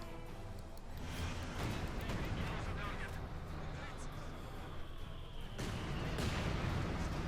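Mortar rounds and gunfire exchanged in a Company of Heroes 2 1v1 match, a dense, continuous roar of booming blasts and rattling shots with no pause, loud and layered throughout.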